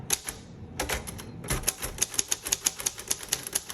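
Keys strike on a 1957 Royal Aristocrat manual typewriter in a quiet room, a quick burst of clacks, a short pause, then a steady run of crisp, evenly spaced keystrokes close by.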